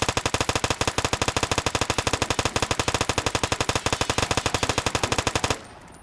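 Rapid automatic gunfire from a bullet gun in the video game Oid Warfare Tycoon, a fast, steady stream of loud shots lasting about five and a half seconds before cutting off.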